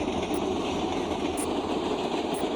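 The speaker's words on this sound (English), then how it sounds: "here comes the train" A train passes by a marsh boardwalk with a steady, low rumble and mechanical drone, plus a few faint high squeals, heard at a moderate distance.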